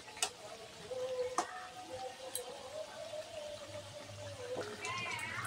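Khaira fish chorchori bubbling and simmering in a pan, a soft steady sizzle with faint ticks and a few sharp utensil clinks, heard close with no talking.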